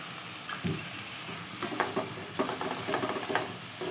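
Washed, drained rice fries with spice masala in a pan for a vegetarian rice and pointed gourd dish, a soft steady sizzle broken by a few quick stirring scrapes, fairly quiet, with no talking.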